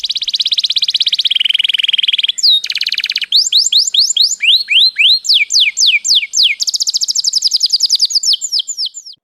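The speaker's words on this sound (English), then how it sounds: "Do you get the canaries singing every so often?" Canaries in an indoor aviary trill and chirp continuously, shifting between rapid buzzy rolls, rising whistled sweeps and repeated bright chirps, loud and close with no talk.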